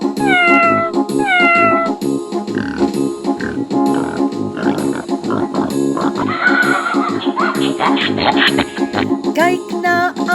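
Cat meows ring out over the music of an Afrikaans children's farm-animal sing-along song, several short rising-and-falling calls spread through the clip, close and fairly loud.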